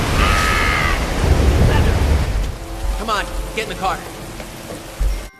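Heavy storm rain pours with a steady broadband hiss across a scene from the 2013 film Sharknado, set in California, and the downpour eases partway through. A voice speaks over the rain, and no distinct thunder stands out.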